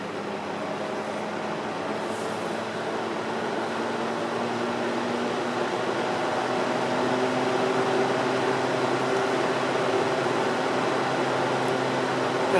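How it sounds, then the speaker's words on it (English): A 30-watt solar attic fan motor hums continuously and gradually grows louder as it spins up, a steady mechanical whir with a faint tonal drone. "The fan motor ramps up slowly."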